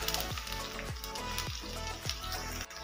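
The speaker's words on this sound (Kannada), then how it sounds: "ಈರುಳ್ಳಿನ ಹಾಕ್ತಾ ಇದ್ದೀನಿ, ಕೆಂಪಾಗೋವರೆಗೆ ಫ್ರೈ ಮಾಡಬೇಕು." Onions fry in oil for chicken tikka biryani, giving a continuous close sizzle with faint crackle over a low repeating hum, no talking.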